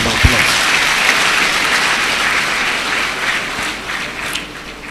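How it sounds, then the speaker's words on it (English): A dense, loud wash of applause from an audience at a university induction and oath-taking ceremony, continuous and even for the whole stretch with no voices over it. "Please, we should give him a round of applause."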